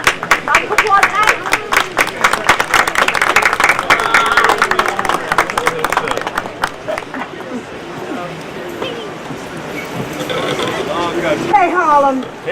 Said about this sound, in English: Round of applause, Inez.